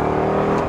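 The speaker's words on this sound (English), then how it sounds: "this car has a course of mufflers on it, so it gets a little louder" Chevrolet Corvette C6 with aftermarket mufflers, its engine giving a steady, loud, close droning rumble with a strong low harmonic tone throughout a brief moment.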